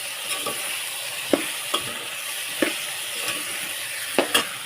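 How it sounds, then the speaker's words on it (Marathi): Cowpea pods stir-fry in a pan for a Marathi vegetable dish, a steady close sizzle with a handful of scattered scraping knocks from the spatula, no voices. "आणि ह्या चवळीच्या शेंगा त्याच्यामध्ये टाकून घेते परतून घेते"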